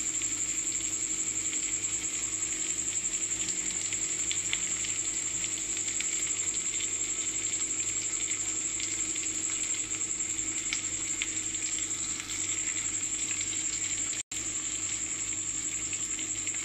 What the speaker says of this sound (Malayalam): ഇപ്പോൾ ഞാനൊരു മീഡിയം ഫ്ലെയിമിലിട്ടിട്ടാണ് ചിക്കൻ കുക്ക് ചെയ്യുന്നത്